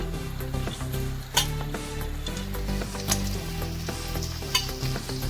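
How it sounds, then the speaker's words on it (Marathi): Green beans, carrots and peas sautéing in a pan for veg pulao, a steady loud sizzle with a spatula scraping and stirring through it and occasional clinks, no voices. "आता आपण फरसबी टाकून घेऊ, गाजर,"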